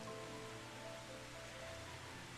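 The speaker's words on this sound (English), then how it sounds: "And it's raining again." Steady rain falls in the video game Final Fantasy XIV as a soft, even hiss with a faint low hum beneath, quiet throughout and with no voices.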